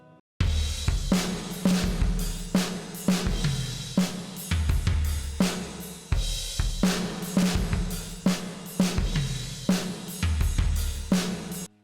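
A punchy shoegaze drum beat plays in a steady loop, with a deep kick and sharp snare hits repeating in an even rhythm.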